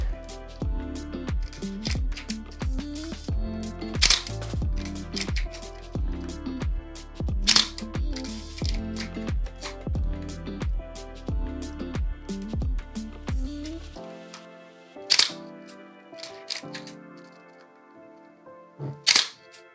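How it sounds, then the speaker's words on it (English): A rapid run of repeated mechanical clicks and snaps from a Minolta SRT101 camera shutter and mirror, then a few isolated louder clicks with quiet gaps between them, close up. "Let's confirm that the shutter is closing now."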